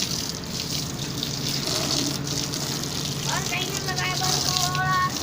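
Running water rinsing mud off a bike outdoors, a steady splashing gush close by, with a voice talking over it.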